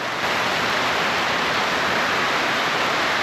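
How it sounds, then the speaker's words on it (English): Constant hissing rush of rainwater running from the street through drainage pipes in Costa Rica, steady and fairly close, with no speech. "This comes from the street, so there's always water running"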